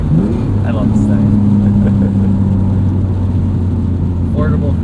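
A 1998 BMW E36 M3 sedan's engine hums steadily from inside the cabin while driving, a constant low drone running under people chatting throughout.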